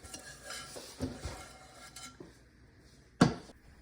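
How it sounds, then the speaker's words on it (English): A utensil scrapes salted caramel brownie batter out of a mixing bowl, making several scrapes and clinks, then one sharp clatter near the end, with no speech. "Scrape out as much as you can."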